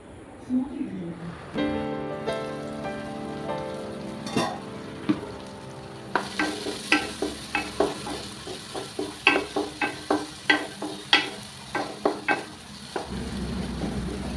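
Soya bean curry ingredients sautéed and stirred in a pan, with quiet cooking sounds giving way to a steady run of sharp spoon scrapes and stirring clatter in a close, regular rhythm.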